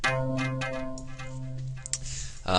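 A synthesized guitar-like tone from the Psycho preset in FL Studio plays a run of sustained, buzzy notes with a steady low drone underneath, fairly loud and close throughout.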